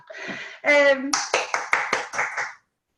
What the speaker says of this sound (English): Thank you, gave me that wee clap.